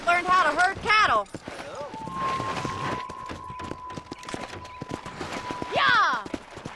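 Rapid hoofbeats of a galloping horse in a video game set in Armadillo patter steadily, with a horse whinny and game-style sound effects and brief voice snippets layered over it.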